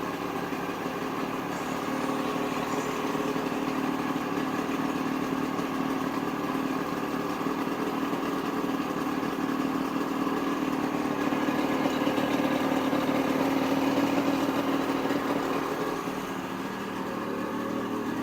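A 1970s Checkmate motorcycle engine, just revived with rebuilt carburetors and stator, idles steadily close by, a smooth continuous hum with a faint dip near the end.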